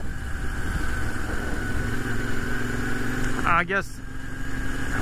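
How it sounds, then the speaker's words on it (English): Moto Guzzi V7 Stornello engine running while riding on an Italian road, a steady throaty drone with a short sharp rising whine near the end, heard beneath someone talking. "There is lots of torque, very nice sound of the engine too."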